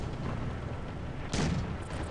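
A single tank cannon shot in World of Tanks Blitz, one sharp heavy boom standing out over steady engine rumble and battlefield ambience.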